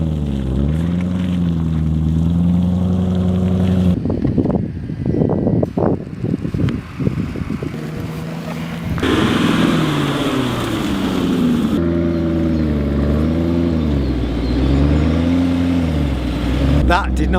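A car driving off-road on road tyres, its engine droning and rising and falling in pitch as it strains, with bumps, rattles and wind noise through the middle, loud and close.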